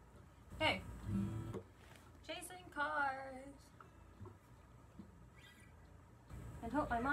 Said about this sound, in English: I'm really sorry for my bird sounds in all of these videos